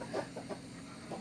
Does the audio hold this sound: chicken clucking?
yes